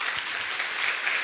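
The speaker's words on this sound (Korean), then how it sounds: "주님께 영광의 박수 올려드리겠습니다" Church congregation giving the Lord a round of applause, dense continuous clapping from many hands, steady and close with no one speaking over it.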